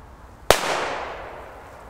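A single sharp bang from a small grenade-shaped firecracker, loud and close, followed by a short rumbling decay and then quiet.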